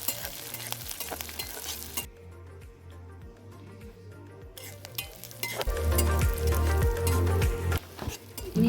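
Garlic and green chilli sauté in hot oil in a pan for a Kerala star fruit pickle, a steady close sizzle with scraping stirring strokes, briefly quieter in the middle before swelling louder again.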